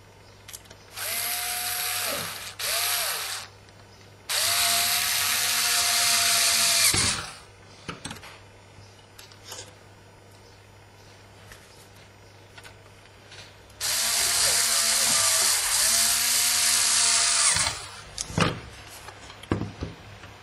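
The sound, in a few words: screws being driven into hard drive enclosure sides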